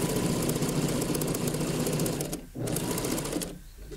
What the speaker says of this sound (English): So I'm putting in my first stitch all the way to the end.